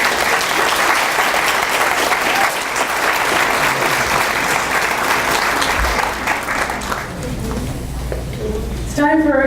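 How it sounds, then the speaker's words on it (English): Sustained audience applause after the first round of a candidates' debate, a loud, dense roar of clapping that thins toward the end as a voice begins speaking. "A round of applause."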